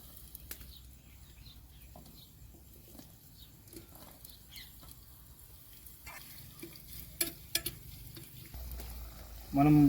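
Chili chicken with green chilies fries in a clay pot, giving a faint, soft sizzle with scattered stirring scrapes and small clicks, growing louder near the end.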